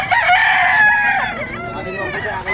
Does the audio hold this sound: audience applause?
no